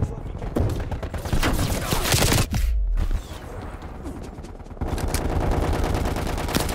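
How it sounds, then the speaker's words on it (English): Tec-9 SMG in the Call of Duty Cold War game firing semi-automatic shots in rapid, loud volleys, with a brief lull in the middle before more gunfire resumes. "Why is there an SMG that single fires?"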